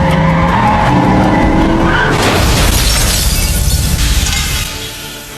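A car crashes with screeching, skidding tires. A long tire squeal builds, then a loud impact with shattering debris bursts out and slowly fades.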